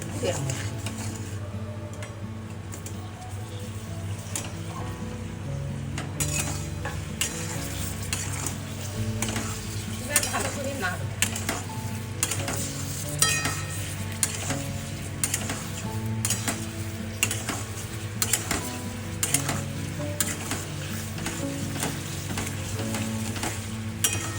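Amla pickle sizzles and fries in a pan while a spoon stirs it, a steady close crackle with frequent scraping clinks throughout.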